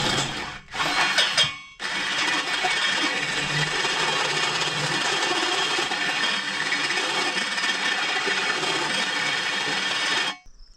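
A power tool works through a steel I-beam from a scrapyard: a short start, a brief pause, then a loud, steady, close grinding drone that holds for about eight seconds before cutting off.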